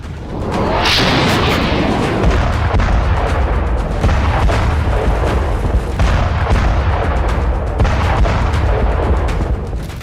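Loud, continuous machine gun fire and heavy artillery blasts crowd together in a war zone in Azerbaijan, with rapid bursts of shots and dense rumbling throughout.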